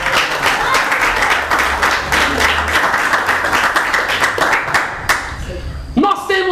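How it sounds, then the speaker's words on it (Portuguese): A church congregation claps together for Jesus in a steady, dense wash of applause that runs for several seconds, with voices mixed in, before fading out near the end. "Pode bater as palmas para Jesus"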